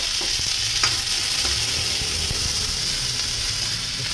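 Onion and green chili frying together in a hot pan after cumin, giving a dense, steady close-up sizzle with occasional soft stirring knocks, no voices.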